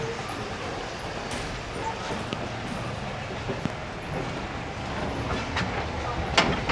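Sialkot Express coach rolling on rails on the branch line toward Wazirabad, a steady loud rumble with rattling and occasional sharp clanks and knocks from the bouncing coach.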